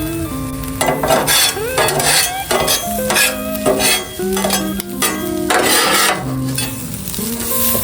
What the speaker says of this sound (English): Now let's give it a quick stir